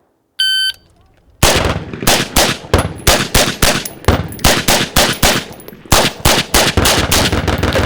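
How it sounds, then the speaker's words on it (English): Rapid volley of loud, close rifle shots from a VTAC 1-5 night-vision drill using passive aiming, about twenty sharp cracks in quick uneven bursts, preceded by a shot-timer beep. "Braxton, we're gonna shoot the VTAC 1-5, but this time we're gonna use passive aiming."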